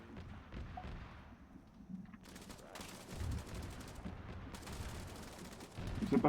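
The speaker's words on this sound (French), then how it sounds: "C'est pas sur nous les tirs" Bursts of video game gunfire crackle in rapid volleys, loud and dense in two long stretches with softer rumbling between them, with no one speaking.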